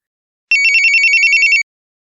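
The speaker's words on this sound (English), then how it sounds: "My phone rings" A phone rings with a bright, electronic trill, one continuous burst of rapid warbling pulses lasting about a second, loud and close against otherwise silence.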